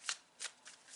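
Short riffle-shuffles of a tarot deck, three quick crisp bursts of card noise close up, alone and fairly quiet.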